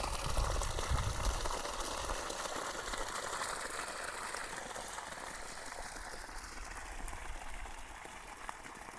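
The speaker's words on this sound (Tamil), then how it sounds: "மோட்ரு ஆன் பண்ணிட்டோம்." A 3hp solar water pump motor with a 2 inch delivery pipe runs steadily outdoors on farmland, a continuous loud mechanical whir with rushing water texture that holds unbroken throughout.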